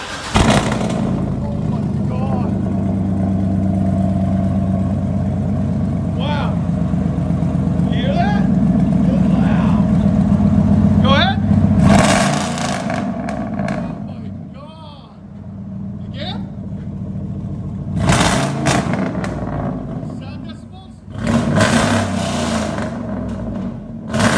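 A cammed Chevy/GMC 6.0L V8 with headers idles with a loud, steady, low rumble close by, broken by a few sharp revving bursts midway and near the end, with a voice heard at times.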